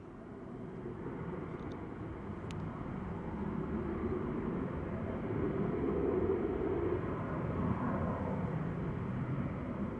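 A TUI airliner, registration G-TAWB, on its takeoff roll at Manchester Airport, heard as a steady, distant low jet roar that swells gradually and holds, with no talk.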